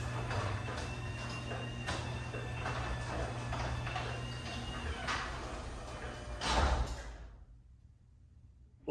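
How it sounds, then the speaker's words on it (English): A garage door driven by a new electric opener rolls down with a steady mechanical hum and rattle, a louder clunk as it seats, then falls nearly silent. "press the button and drop the garage door"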